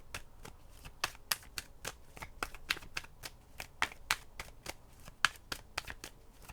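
Tarot cards are shuffled and drawn during a reading, with a quick series of crisp riffling snaps and flicks close up, steady throughout and with no voices.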